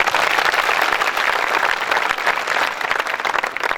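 An audience at an evening poetry gathering applauds steadily and loudly, dense clapping filling the space without pause from start to finish.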